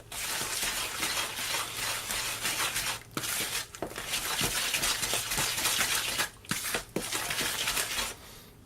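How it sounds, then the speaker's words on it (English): Chocolate fudge cake batter with egg being stirred in a bowl, a continuous scraping, rubbing swish with brief pauses and clinks, close and fairly loud. "I best stir this one in."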